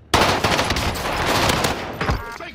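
Video game gunfire erupts as a dense, loud burst of rapid shots that runs without a break for about two and a half seconds and overwhelms everything else.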